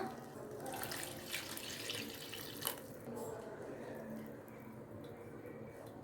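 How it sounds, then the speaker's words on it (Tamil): Water poured into a pan of sautéed moong dal and tomatoes for Kumbakonam kadappa makes a steady, faint splashing stream that runs throughout. "இப்போ தண்ணி ஆட் பண்ணிக்கலாம்."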